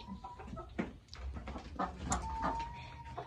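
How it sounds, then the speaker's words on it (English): Chickens cluck and murmur softly nearby, with short calls scattered over a quiet outdoor background. "Here's our chickens"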